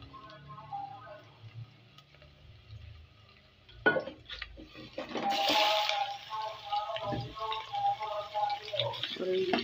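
Chicken necks drop into a pan of browned onions, setting off a sudden close sizzle that keeps crackling afterward, while someone talks over the cooking.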